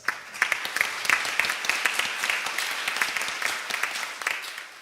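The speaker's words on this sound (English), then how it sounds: "Let's give a round of big applause." Conference audience applauding at an international development cooperation conference in Seoul, a dense, steady wash of many hands clapping close by for about five seconds, with no talk over it.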